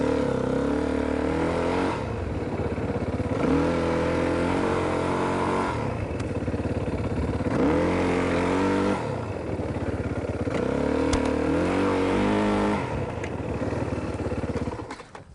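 A dirt bike engine revs repeatedly during a hook slide, rising and dropping in pitch in several surging cycles, loud and close throughout.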